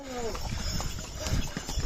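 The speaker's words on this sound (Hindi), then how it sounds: "तो कुछ लोग यहाँ पे घोड़े में जाते हुए" Horses clip-clopping along a mountain pilgrimage trail to Kedarnath, hooves sounding in a loose irregular rhythm close by, with a brief whinny at the start and people talking over it.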